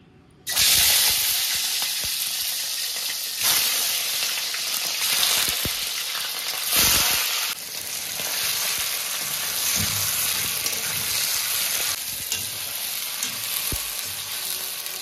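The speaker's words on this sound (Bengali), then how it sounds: "আগে চিকেনগুলোকে ভেজে নেব।" Chicken pieces fry in white oil in a pan for a restaurant-style chicken kosha, a continuous loud, close sizzle with occasional stirring scrapes and bursts of crackle, no talk.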